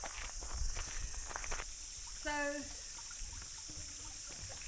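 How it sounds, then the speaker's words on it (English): Crickets by a nearly dry waterfall in New Zealand make a steady, high, continuous drone throughout, with footsteps and faint talk beneath it. "Sound of crickets. Noisy buggers. You can hear them, but you can't see them."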